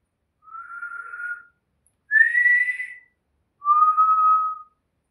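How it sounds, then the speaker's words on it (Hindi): Three separate whistled notes, clean and close with short pauses between them, sound in a horror tale as a lurking figure whistles. "टेररमैन फिर से सीटी मारता है"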